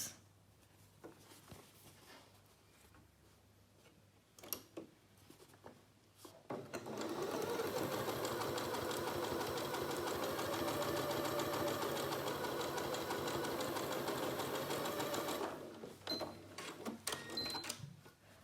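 A sewing machine zigzag-stitches the sides of a fabric face mask in one long sustained run of fast, even needle chatter, close-up, with quiet handling sounds before and after.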